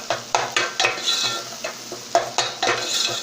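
Eggs are stir-fried in a pan for khagina, with a rapid series of loud scraping spatula strokes against the pan over a soft sizzle and no talk.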